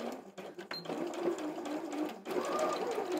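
Sewing machine stitching a few stitches forward and backward on cotton fabric, a quiet rapid mechanical whir in short bursts with brief pauses, close and faint.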